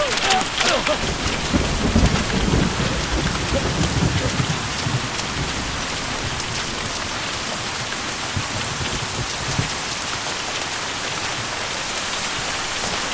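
Heavy rain and hail pound down in a storm, a dense, steady roar throughout with louder rumbling bursts early on and no speech.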